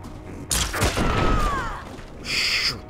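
One heavy gunshot booms in Mutant Year Zero and rings out with a long, whining tail, followed a moment later by a mechanical clack like a weapon being worked.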